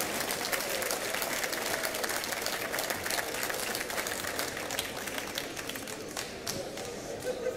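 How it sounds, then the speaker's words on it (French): Audience applause at the opening ceremony of the ITSF table football World Cup in Nantes, France, dense continuous clapping from a large crowd, steady and even, easing slightly near the end. "let's have another round of applause for these gentlemen who greatly contribute to the success of the World Cup"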